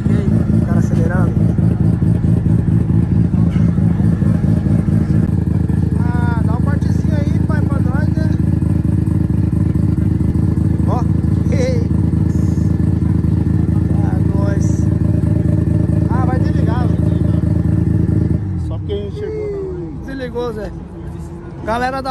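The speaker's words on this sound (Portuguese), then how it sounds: "Peguei, o cara acelerando." A four-cylinder vehicle engine revs hard on a Tokyo street, a loud, close, sustained roar that cuts off near the end, leaving traffic noise while people talk over it.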